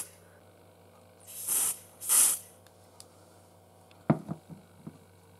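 Two short hissing bursts from an aerosol test spray can aimed at a smoke detector on a Ziton ZP2 addressable fire alarm system, each about half a second, followed by a few faint clicks and knocks.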